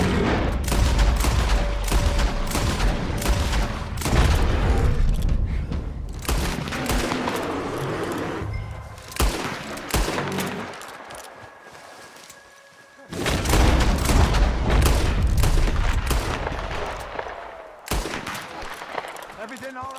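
Dense gunfire in Red Dead Redemption 2: rapid volleys of loud shots and heavy booms come in bursts separated by brief lulls, with voices calling out between and over the shooting.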